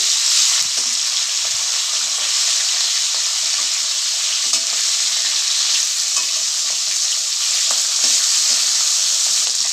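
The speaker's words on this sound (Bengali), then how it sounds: "মাছের মাথাগুলো তো ভালো করে ভেজে নিচ্ছি" Hilsa fish heads fry in a pan with dried red chili and white cumin, giving a loud, steady, close-up sizzle that runs unbroken throughout with a few faint clinks and no talking.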